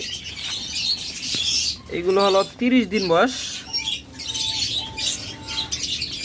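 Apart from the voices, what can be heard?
king quail chirping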